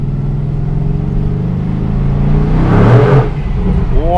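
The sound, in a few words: V8 sports car exhaust accelerating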